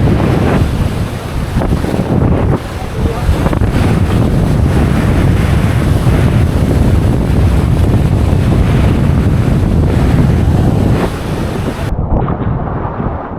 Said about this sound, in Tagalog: Wala na guys, gumagalaw na yung hangin pati ulap ko.